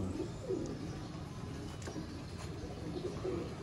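Sialkoti pigeons cooing softly and repeatedly, several low rolling coos over a steady background murmur.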